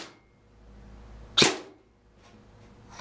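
Airsoft gun firing a single shot through a chronograph, a sharp snapping crack midway through an otherwise quiet stretch, close and brief.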